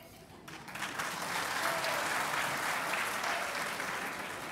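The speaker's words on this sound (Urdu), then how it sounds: "اب آپ تالیاں بجائیے" Conference audience applause, a dense wash of many hands clapping that swells within the first second and holds steadily for several seconds, fairly distant and moderately quiet.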